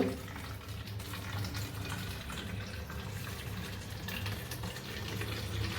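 Water runs steadily and softly, a continuous gushing pour with a low hum beneath, no voices.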